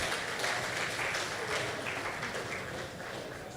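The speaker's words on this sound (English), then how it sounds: "A round of applause is appropriate at that point." Steady applause from the audience at the close of the first day of the Seplat Technology Summit, a dense, even wash of clapping from a large hall, heard alone and sustained throughout.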